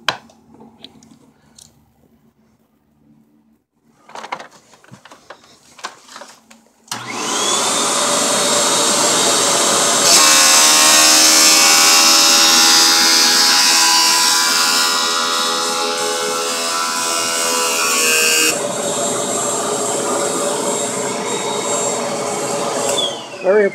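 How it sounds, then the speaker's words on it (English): A Royal upright vacuum cleaner switches on after quiet handling noises and runs loud and steady with a rising whine, its pitch shifting partway through before it winds down near the end. "A model that we sell a lot is a Royal Upright."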